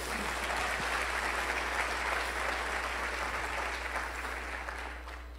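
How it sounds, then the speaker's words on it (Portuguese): Worshippers in a church give a sustained round of applause to Jesus, a thick continuous patter of many hands that stays level and fades gently near the close, alongside a low steady hum. "dá mais uma salva de palmas a Jesus"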